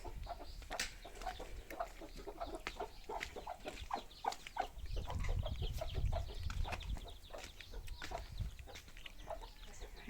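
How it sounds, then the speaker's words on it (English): Chickens in a swept farm compound yard, big hens feeding among little chicks, with scattered soft clucks and clucking calls close by, plus some low rumbling movement midway and no talking. "These big chicken are eating from the little chicks because they disappeared."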